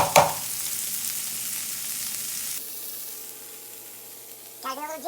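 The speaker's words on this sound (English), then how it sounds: "I'm just warming it up and just letting the peppers and onions saute." Peppers, onions and precooked steak sauté in a pan with a dense, steady sizzle close by that drops quieter halfway through, and a voice briefly comes in near the end.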